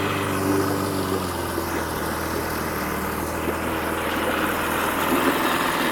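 A 1955 Mercury Mark 55 outboard motor runs steadily on a 13-foot Lyman rear-steering runabout, a constant close, loud engine drone with a low rumbling hum and no pauses.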